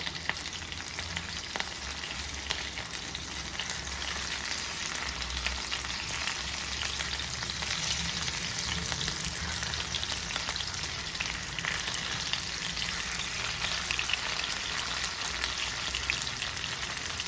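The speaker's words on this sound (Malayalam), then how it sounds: "ഇനി നമുക്ക് ഇവനെ ഒന്ന് മറിച്ചിട്ട് കൊടുക്കാം ഇത് നോൺ സ്റ്റിക്ക് ആയതുകൊണ്ട് തന്നെ പിടിക്കത്തില്ല" Kerala-style karimeen (pearl spot fish) frying in a non-stick pan, a steady, dense crackling sizzle that holds evenly throughout, close and unbroken by any talk.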